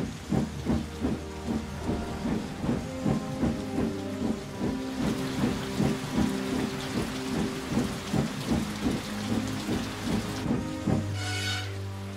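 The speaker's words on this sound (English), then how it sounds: "it began to storm heavily" Heavy rainstorm pouring steadily with a dense hiss of rain on surfaces, loud and continuous, with rumbling low thunder and rhythmic low pulses underneath.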